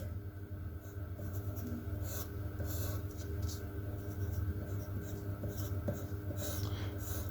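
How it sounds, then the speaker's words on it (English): Pen or pencil writing numbers by hand for a matrix multiplication problem: continuous close scratching strokes in short bursts with brief pauses between figures, over a low steady hum. "Write out the numbers."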